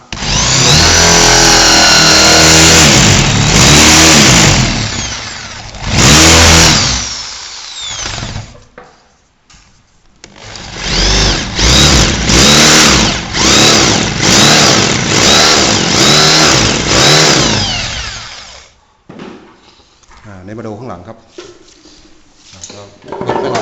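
A power drill bores a keyhole through an oak-finish wooden display cabinet, whining loudly in long sustained bursts with short pauses between them, and someone talks in the gaps.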